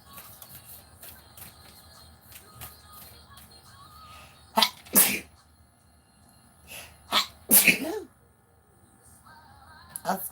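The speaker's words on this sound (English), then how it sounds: "I sneezed it like so stinking much" Repeated sneezes in a sneeze fit, several sharp loud bursts in two clusters close to the microphone, over a quiet background hiss.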